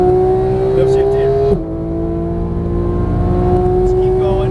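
A Porsche GT3 991 accelerates hard on a race track, the engine note climbing in a steady rising whine before a clean upshift drops the pitch and it pulls again. A voice speaks over it.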